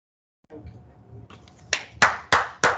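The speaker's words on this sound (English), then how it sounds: "Please clap for him." A few people in a neuro-ophthalmology lecture audience clap, starting as soft scattered claps under murmuring, then four sharp, loud claps in quick succession.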